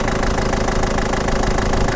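A steady, rumbling diesel engine idles close by, with a constant low drone and faint knocking texture, no voices.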